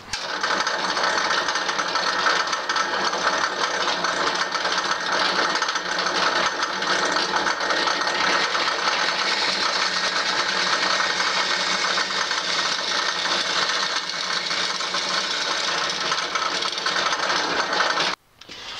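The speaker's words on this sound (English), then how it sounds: "I'm going to drill through my pen blank with my 3/8 inch drill bit." A continuous high whining drill with a 3/8 inch bit grinds steadily through a wooden pen blank for about eighteen seconds, close and loud, stopping abruptly at the end.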